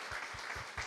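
A church congregation applauds at a worship service, a brief burst of quick, even claps from many hands, soft and steady with no talk.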